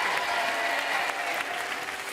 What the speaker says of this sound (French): On peut les applaudir encore très, très, très, très fort.